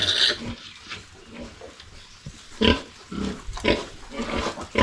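Mother pig with a new litter of twelve piglets on a farm, grunting in short bursts and squeals that come and go, fairly close, with no talk over them.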